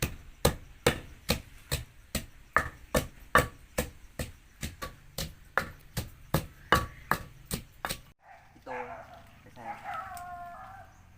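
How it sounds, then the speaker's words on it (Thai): Onion pounded in a mortar for a wild mushroom curry, about twenty steady, evenly spaced thuds up close, followed by a rooster crowing and clucking outdoors once the pounding stops. "ใส่หัวหอมลงไปแล้วทีนี้ก็ตำตำตำตำไปเลยนะคะ"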